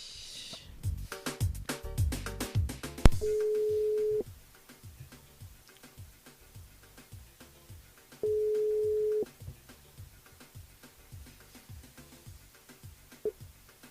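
A phone line rings out on a call to a radio listener: two long steady tones separated by a gap, clear and alone after a burst of rapid dialing beeps at the start.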